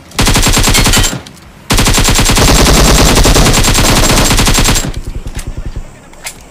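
Loud, rapid automatic gunfire from BGMI (PUBG Mobile) gameplay, a short burst followed by a longer sustained stream of shots, then a few trailing single shots.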